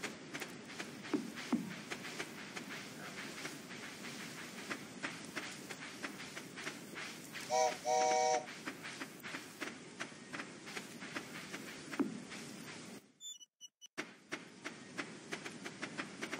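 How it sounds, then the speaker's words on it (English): A passenger train running in a farming video game, a steady rhythmic clatter of wheels on rails that carries on throughout, with a brief chime in the middle and a short dropout near the end. "It's just a passenger train."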